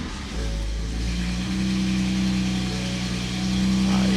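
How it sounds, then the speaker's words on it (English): A BMW S55 engine with a Valvetronic exhaust, valves closed, making a cold start after sitting a couple of hours: a loud, steady low drone that settles into a high idle and swells slightly near the end. "I believe this is going to be somewhat of a cold start."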